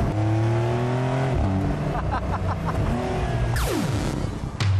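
A fast car revs hard at about 130 km/h through a tight curve, engine pitch climbing and dropping with gear changes and a rising whine, loud and close, with someone talking over it.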